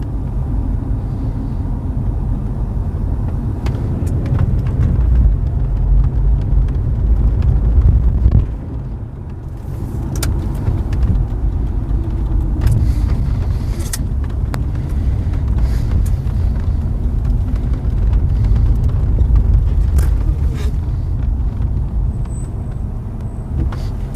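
Mercedes W126 car driving on a road in Drachten, giving a steady low engine and tyre rumble with wind noise throughout, a brief lull partway, and faint clicks and knocks, with no talk.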